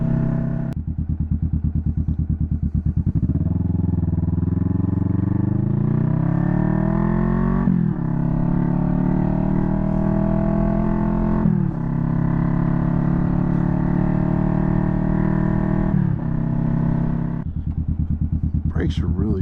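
Close engine drone of a 2021 Kawasaki Vulcan S motorcycle on a ride, rising in pitch through several gears with clear shift breaks and steady throttle in between.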